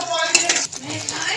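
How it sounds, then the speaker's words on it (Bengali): A utensil stirs potol malai curry, a Bengali pointed-gourd and coconut dish, in a pan, giving a few quick metallic scrapes and clinks over about a second and a half, close and fairly loud. "নাড়িয়ে নেব।"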